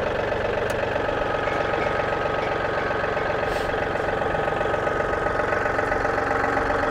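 A tractor engine runs with a steady chugging rumble while pulling a hay feeder, constant and fairly close, with no voices.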